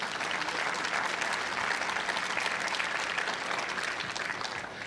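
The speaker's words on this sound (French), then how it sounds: "Je pense que ça vaut une bonne main d'applaudissement." Sustained audience applause at a church gathering, a dense, steady wash of many hands clapping at moderate level throughout, without pauses.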